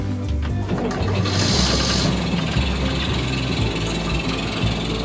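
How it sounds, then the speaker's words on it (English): A low, rumbling sailboat's engine chugs steadily nearby, with a brief hissy splash of water partway through and mechanical rattling throughout. "we're going to run the engine"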